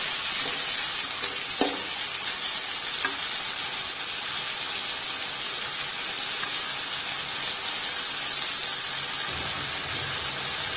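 Tomatoes are tipped into onions already frying in a pan, bringing a steady close sizzle with a few sharp bursts and clatters as they land and are stirred, and no voices.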